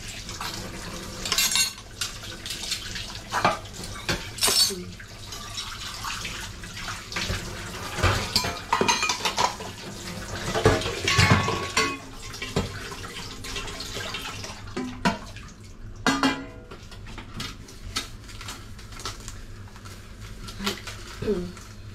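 Dishes are being hand-washed under a running tap of hot household water, with rhythmic clinks and clatters of utensils over the splash and rush of water that comes in and out in bursts.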